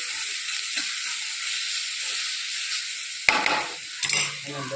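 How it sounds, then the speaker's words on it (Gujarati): A spice masala with green chillies sizzles steadily in a hot pan for a Bombay-style jumbo vada pav filling, and near the end sharp scraping stirs of a utensil cut in over the frying hiss. "ખાલી આ મસાલાને આપણે સોસો કરીને ગેસ બંધ કરી દેવાનો છે"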